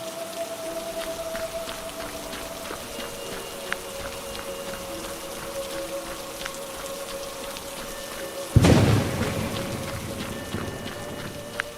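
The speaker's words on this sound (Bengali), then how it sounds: "এমন সময় আচমকা বৃষ্টির গতি বাড়ল।" Heavy rain in a Bengali horror cartoon, a steady dense patter that surges abruptly near the end into a louder, fuller downpour, with no voices.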